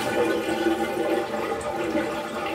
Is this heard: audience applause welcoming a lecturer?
no